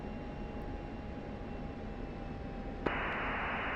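An F-16 fighter jet engine gives a steady, muffled hum heard through a radio, with a faint tone above it. A sharp click near the end brings a louder wash of static hiss.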